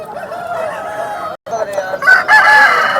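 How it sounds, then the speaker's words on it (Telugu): A red-feathered rooster, about 3.5 kg, crows loudly and close by at the Nallapadu rooster market, one drawn-out crow broken by a short pause, over a busy background. "కోడిపుంజు అయితే చాలా బాగుంది"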